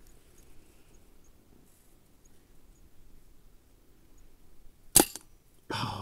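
A single sharp, close crack from a Brocock Ranger XR .22 sub-compact airgun carbine cuts through a quiet outdoor hush, followed moments later by a brief burst of noise.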